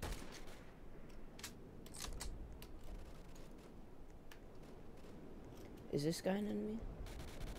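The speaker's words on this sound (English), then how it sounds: "the MG42 in this game is quite accurate" Bursts of MG42 machine-gun fire in a Roblox game crackle through the opening seconds over a steady game-noise bed. Someone talks throughout, and his voice is clearer near the end.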